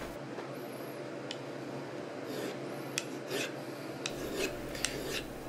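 Steady, faint rasping of a file working the inside of a titanium 1911 mag catch, continuous rubbing strokes with a few small clicks, close and quiet.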